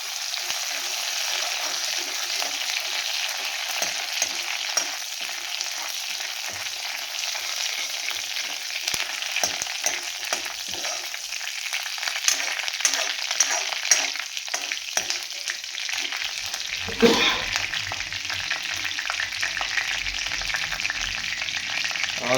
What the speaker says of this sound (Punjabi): ਆ ਤੇਲ ਸਾਡਾ ਗਰਮ ਹੋ ਗਿਆ ਹਾਂਜੀ ਆਪਾਂ ਇਹ ਕੜੀ ਪੱਤਾ ਵਿੱਚ ਪਾਇਆ